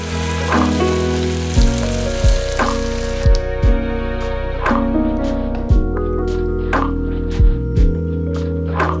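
Noodles and reserved pasta water hiss and sizzle steadily in a hot pan for a soy-butter bok choy pasta, with a continuous loud frying crackle, occasional wet pops and scrapes, and no talking.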